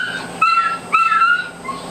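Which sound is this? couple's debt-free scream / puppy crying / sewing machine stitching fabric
puppy crying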